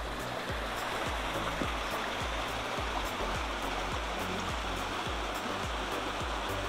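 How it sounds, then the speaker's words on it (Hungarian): Mountain waterfall in the Retezat mountains, a cascade several hundred metres tall falling over rock, heard close as a loud, steady broadband rush of water with constant spray and no pauses. "Ha a vízesés innen indul, és mutatom a látványt."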